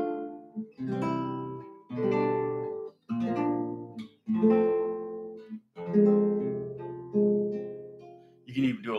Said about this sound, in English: rolling a block chord sounds like this